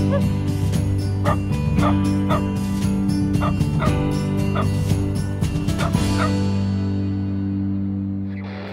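A dog gives repeated short barks and yips over loud, steady music with a droning hum, the barks fairly distinct and evenly spaced before the sound fades out.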